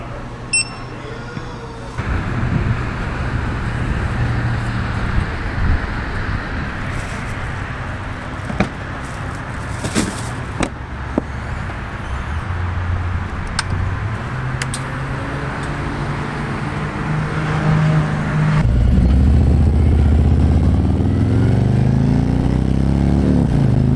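A Harley-Davidson Road Glide motorcycle cruises along the road with a steady engine drone and wind rush, swelling louder and deeper near the end as it accelerates.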